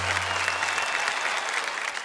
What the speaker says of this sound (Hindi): इनके लिए जरा तालियां बजाइए।